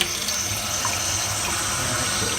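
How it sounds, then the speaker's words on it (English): Water runs steadily from a newly installed kitchen sink faucet, a continuous close hiss and splash with no talking. "Alright, so the water's on, and we'll run the line."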